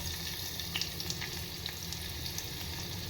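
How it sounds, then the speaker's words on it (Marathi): Onion added to well-heated oil with asafoetida sizzles in a pan, a soft continuous frying hiss with a few faint crackles, quiet and close. "आपलं तेल छान तापलेलं आहे. आता घालतो आहे कांदा."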